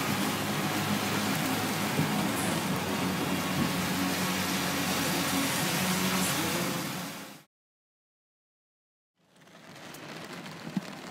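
Steady broadband hiss of rain falling in Las Vegas, loud and continuous for about seven seconds, then a brief silence before quieter rain noise resumes.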